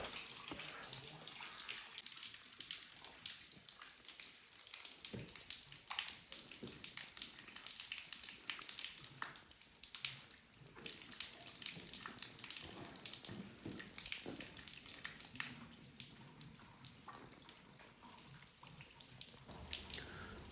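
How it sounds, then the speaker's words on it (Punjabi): Steady rush of water pouring and splashing continuously, close by, like a stream from a spring filling a container, with no voices. "ਇਹ ਪੀਣ ਵਾਲਾ ਪਾਣੀ ਆ ਝਰਨੇ ਚੋਂ ਆਉਂਦਾ"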